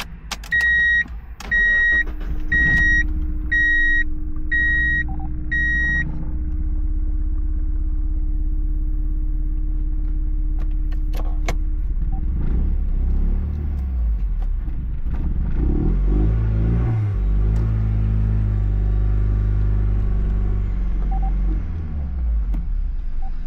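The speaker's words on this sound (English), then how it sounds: "To me it sounds like it's misfiring, stalls out at idle every time you come to a stop." A turbocharged 2005 Mazda MX5 Mazdaspeed running on Megasquirt idles roughly and unevenly, a misfiring low rumble with a few electronic chimes early on, then the engine note shifts and surges near and loud.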